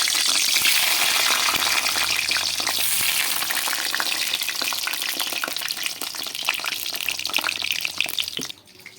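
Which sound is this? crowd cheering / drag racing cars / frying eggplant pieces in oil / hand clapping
frying eggplant pieces in oil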